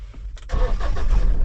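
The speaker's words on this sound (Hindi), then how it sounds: "वाओ, एक सेल्फ में स्टार्ट।" A vehicle's engine cranking with a new battery and catching on the first self-start, a brief whir followed by a loud, close rumble settling into a steady running idle.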